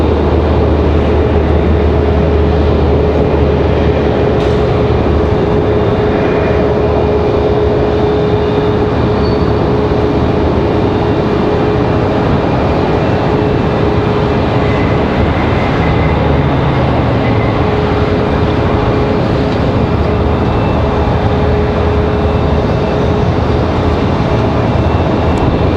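A Boeing 777 from London flying downwind near Raleigh-Durham International Airport, heard as a loud, continuous engine rumble with a steady tonal whine running through it, sustained for the full length without speech.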